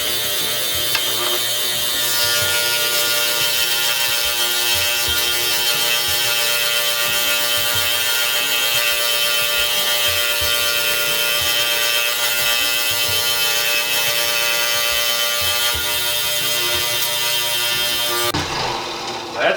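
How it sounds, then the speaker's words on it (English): An electric jigsaw clamped to a workbench cuts curves in wood, a loud, continuous buzzing reciprocating drone with rattly mechanical texture, running steadily before cutting off near the end. "I also have the jigsaw clamped to the bench, and it's plugged in and ready to go"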